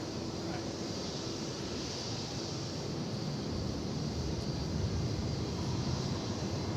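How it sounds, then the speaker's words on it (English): A Polar Air Cargo aircraft at DFW Airport at night, heard as a broad steady jet roar that swells slightly over several seconds. "behind this aircraft, I think this is going to be the Polar Air Cargo we spoke of a little bit ago"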